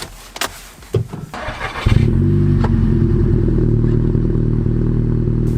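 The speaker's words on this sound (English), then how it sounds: "Let's get the engine started. Have a little listen to that first." A Seat Leon Cupra engine cranks with a few clattering bursts, then catches and settles into a loud, steady idle that drones on.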